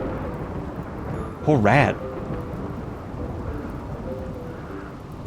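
Steady rain in a RimWorld thunderstorm, a constant hiss under the whole scene, with a voice speaking briefly near the middle.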